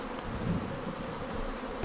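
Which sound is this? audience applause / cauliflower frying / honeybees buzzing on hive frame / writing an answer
honeybees buzzing on hive frame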